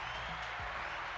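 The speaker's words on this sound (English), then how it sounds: "Let me get a round of applause in there for you before you leave." A short burst of applause: dense, even clapping that holds steady for just over a second.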